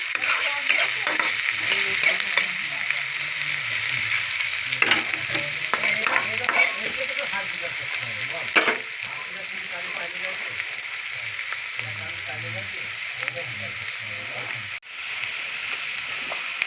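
Large onion pieces frying with chicken bones in a pan, a loud continuous sizzle with occasional stirring scrapes, close and steady throughout.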